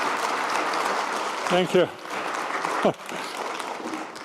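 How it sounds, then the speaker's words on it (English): Audience applause after a panel discussion on capitalism, sustained clapping throughout, with a speaker briefly saying thanks over it. "Great applause."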